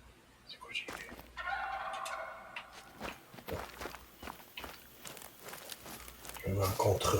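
A wild turkey gobbles during a hunt, with its calls mixed among rustling footsteps and crinkling noises, while someone talks over the scene.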